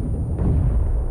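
Grenade blast in a video game, a dense low rumbling boom lasting about a second, loud and close with no talk over it.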